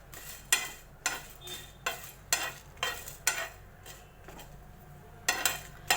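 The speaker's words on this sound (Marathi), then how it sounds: "आपण तवा ठेवलेला आहे, त्याच्यावर हे सगळं आपण भाजून घेणार आहोत" Coriander and cumin seeds being dry roasted on a tawa without oil, giving repeated scraping, stirring strokes of a spatula against the hot pan in a steady rhythm, close and moderately loud.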